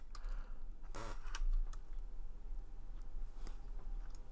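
Computer keys are pressed and a mouse clicks at a desk while editing an image, giving a few close, quiet taps over a steady background hum, without talk.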